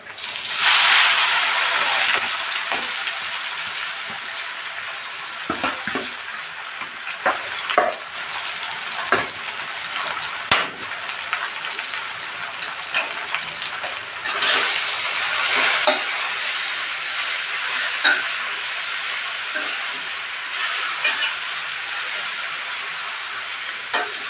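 Jute leaves dropped into hot oil in a pan and fried, a steady loud sizzle with stirring scrapes and clinks of a spatula throughout, close by.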